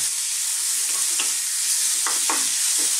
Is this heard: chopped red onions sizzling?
yes